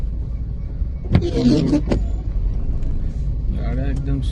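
Cars creeping slowly along a narrow, unfinished road with heavy local traffic, a steady low rumble of engines passing close by, with a brief whine and people talking over it.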